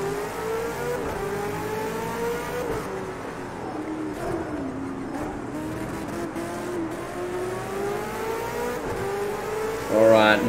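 Race cars in Project Cars 2 surge off the grid at a race start, a steady dense engine drone with rising and falling revs, ending in a louder burst of acceleration.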